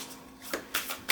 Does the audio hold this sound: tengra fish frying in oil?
no